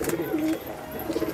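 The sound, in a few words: pigeon cooing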